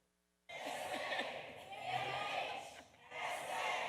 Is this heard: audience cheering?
yes